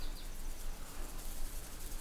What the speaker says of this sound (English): it's cluster flies in my top window.